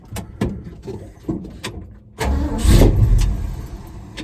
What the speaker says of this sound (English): let's start it up, hear how it sounds with the mufflers